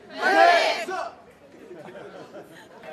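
Jemulpo High School baseball team players roar a single loud unison 'fighting' cheer, a burst lasting under a second. Loose, quieter chatter and murmuring from the group follow the shout.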